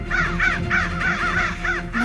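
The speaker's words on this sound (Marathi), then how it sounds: "आणि इतकी कावकाव का करतात?" Several crows cawing in quick repeated bursts, harsh calls overlapping in a steady rhythm, loud and close.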